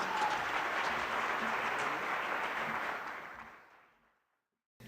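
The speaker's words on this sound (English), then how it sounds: "Let's give a round of applause for Phyllis" Sustained applause from an audience welcoming a student speaker from Paisley IB School at a song showcase, a dense steady wash of many hands that holds for about three seconds, then thins and fades out into near silence.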